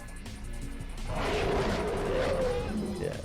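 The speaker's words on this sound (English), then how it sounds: "The scene from the first Saw, where Amanda kidnapped someone with a growl-like sound effect playing." A low, growl-like horror sound effect from the film Saw swells after the first second and holds, rough and menacing, with a rising tonal whine near the end.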